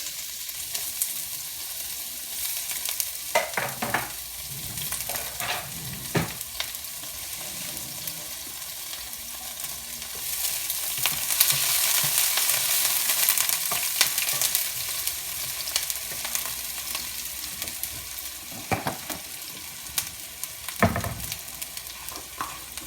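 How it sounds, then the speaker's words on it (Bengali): Green chilies and onions fry in oil in a wok, with a continuous close sizzle that swells in the middle, broken by occasional scraping stirs and clanks of the utensil. "কড়াই গরম করে নিয়েছি এখানে আমি পরিমাণ মতো তেল দিয়ে দিব দিয়ে দিচ্ছি কাঁচামরিচ এবং পেঁয়াজ"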